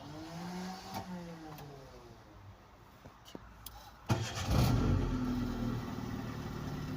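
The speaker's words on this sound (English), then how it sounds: "Let's start the car to see how it works." A manual-transmission car is started: faint clicks and mechanical noises lead into the starter cranking and the engine catching with a loud burst, then settling into a steady close idle.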